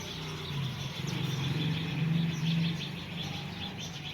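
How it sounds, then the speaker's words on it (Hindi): Many birds chirp and twitter in the evening, a busy overlapping chorus over a low steady hum, with a faint cooing tone underneath. "इतने बर्ड्स हैं आसपास, इतनी चीची चीची चीची की आवाज आती है।"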